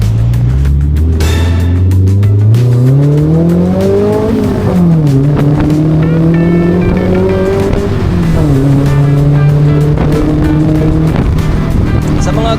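A modified Toyota 4AG engine in an owner-type jeep revs up and down loudly and close, rising and falling through several strong sweeps over a rough, constant mechanical roar.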